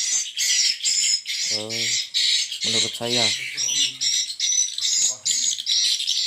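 Recorded swiftlet calls played through speakers inside a three-storey swiftlet house, dense high chirping twitters pulsing continuously and loud, while someone talks over them in short bursts.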